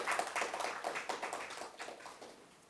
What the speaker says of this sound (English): Applause for Claire, please